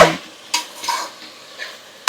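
Ivy gourd and onions stirred in a frying pan for a Telugu curry, a low sizzle broken by three or four distinct scraping and clinking strokes of a spoon against the pan.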